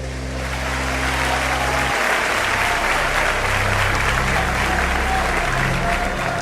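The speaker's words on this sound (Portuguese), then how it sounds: "os que podem tomam seu assento, aplaudindo a Jesus porque Ele é bom." A church congregation at a pastor's service bursts into loud, sustained applause that swells into a dense, continuous wash of clapping over a low music bed.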